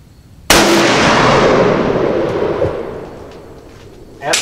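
A single rifle shot fired over chronographs, a sharp loud crack with a long decaying echo rolling out over a few seconds, then a faint thump near the end.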